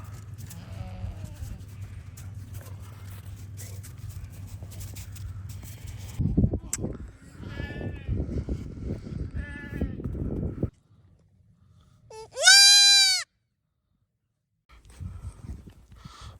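A single loud, wavering Spanish goat bleat rings out near the end after scattered rustling and shuffling noises during a snowy blizzard; no one speaks.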